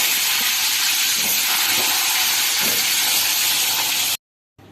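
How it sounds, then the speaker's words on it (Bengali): Potatoes fry in white oil, giving a loud, steady hiss with faint crackles throughout that cuts off abruptly near the end. "আলুটা ভেজে নেব।"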